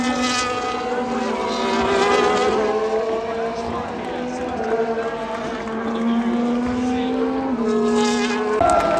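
Formula 1 race cars scream past at the French Grand Prix circuit, a loud continuous high engine whine that holds steady and shifts pitch through gear changes, with faint crowd murmur beneath.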